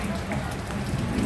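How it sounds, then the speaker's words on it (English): Steady rain patters on surfaces at night along Walking Street in the Philippines, a dense continuous hiss close by, with some talk underneath. "Too rainy."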